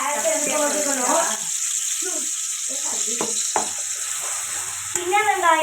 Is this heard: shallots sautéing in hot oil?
yes